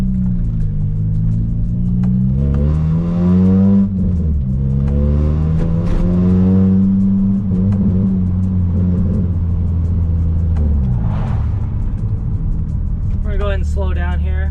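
Supercharged Toyota Celica pulls out onto a road, its engine droning and rising in pitch through several revving climbs with gear-change dips, loud and close from inside the car, with a voice briefly heard at the end.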